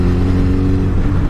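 A Street Fighter motorcycle engine revving, a loud, steady, close rumble held for a moment.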